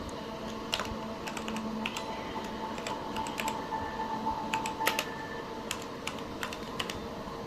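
A computer keyboard types out a console command for a game on a ROG Ally, with quick irregular clicky keystrokes in short bursts, close and fairly quiet over a faint steady background hum.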